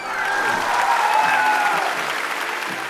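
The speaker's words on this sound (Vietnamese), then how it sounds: "Vỗ tay cho người tên My." A studio audience at a televised singing competition applauds a contestant, a steady burst of many hands clapping for a few seconds with music or a held tone running underneath.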